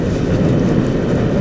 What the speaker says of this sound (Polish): Wicher taki zaczął wiać. Niesamowity, jeszcze takiego nie było.